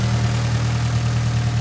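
A car engine idling at an auction, 93,000 on the clock, a loud steady low rumble with a constant hum, close by and uninterrupted.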